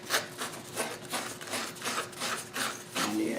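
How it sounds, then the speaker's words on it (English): Light hand sanding along the edge of a wooden segmented filler ring, a soft rhythmic rasp of quick back-and-forth strokes, close and alone. "this is just a light sanding to make sure that burr is gone off the edge"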